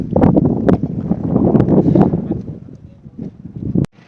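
Cold wind gusting on the high mountain road from Manali to Leh, a loud, continuous rush buffeting the microphone, easing slightly before cutting off abruptly near the end.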